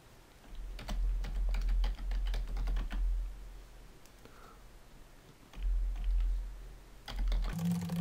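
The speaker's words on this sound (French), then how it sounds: "je vais taper mon petit texte." Bursts of typing on a computer keyboard while writing an email in Mozilla Thunderbird, close and clear, with pauses between runs of quick keystrokes and no talking.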